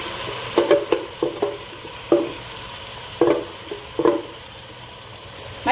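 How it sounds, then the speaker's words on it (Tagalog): Blended chili, onion and ginger hitting a hot pan for pork pata curry, a steady close sizzle broken by repeated short scraping stirs in an irregular rhythm, with no talking. "So, ilagay natin yung ating binilder na chili, onion, and ginger."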